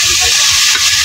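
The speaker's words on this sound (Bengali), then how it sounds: "তো বন্ধুরা এদিকে আনাজটি কষানো হচ্ছে" Vegetables stir-frying in a hot pan, a loud, steady close sizzle with faint scraping of stirring and no voices.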